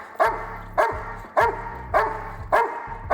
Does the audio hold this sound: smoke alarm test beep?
no